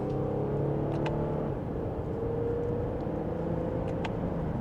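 A 2025 Lexus ES350 Ultra Luxury accelerates mildly in second gear in sport mode, heard from inside as a smooth, fairly quiet engine hum with steady road noise and a slight pitch change partway through.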